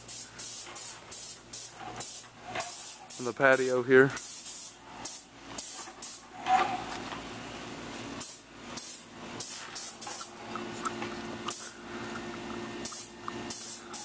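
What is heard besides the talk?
paint sprayer spraying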